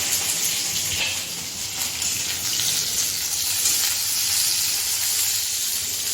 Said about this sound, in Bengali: তেলটা গরম হয়ে গেছে, ঢেঁড়সগুলো তুলে দিলাম